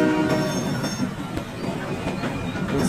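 A blue train rumbles steadily past nearby, wheels clattering and squealing on the rails with a continuous loud roar.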